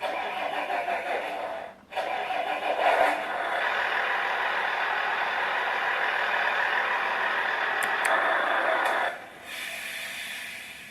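A Beier SFR-1 sound controller in a Tamiya model semi truck plays a simulated truck engine start: a brief crank and catch, then a steady loud diesel idle running alone for several seconds before dropping off near the end.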